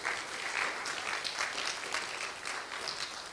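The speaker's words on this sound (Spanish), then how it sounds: "Démosle una ofrenda de palmas al Señor" A church congregation applauds in praise with a steady, even wash of many hands clapping throughout, fairly faint and heard from a distance in the room.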